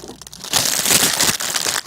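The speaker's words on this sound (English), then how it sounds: "Who has the crinkling going on?" A Fig Newtons wrapper crinkles and crunches up close in a short, loud burst of dry plastic rustling that starts after a quiet half-second and carries on to the end.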